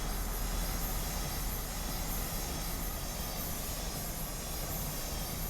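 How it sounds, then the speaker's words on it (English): An airplane flies low overhead in the video game Train Simulator 2021, near Miami and Delray Beach, a steady broadband engine roar that slowly eases, alone with no voices. "Another plane."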